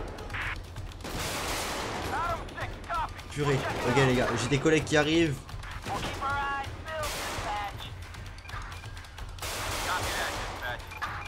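Gunfire in a GTA 5 police mod shootout on a highway, several bursts of shots crackling around and between a man's speech, with game effects in the mix.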